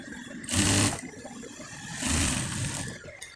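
A sewing machine stitching the folded sleeve cuff of a panjabi runs in two short whirring bursts, each about half a second to a second long, separated by a brief pause, close and fairly loud.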